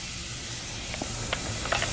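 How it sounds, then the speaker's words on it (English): Shallots sizzling in a hot pan for steamed mussels with sherry cream, a steady soft hiss with faint crackling pops near the end, close and continuous with no talking. "So that's sizzling away."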